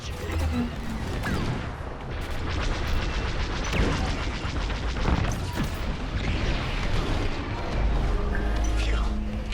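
A capital ship carrier blows apart in the Star Wars Squadrons space-combat game, a sustained roar of booming explosions and crashing debris with dense, continuous rumble, loud and close throughout.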